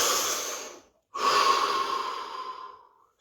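A deep breath taken during a guided relaxation practice: one long, close exhale-like rush, a brief silent pause, then a second long airy breath that slowly fades out.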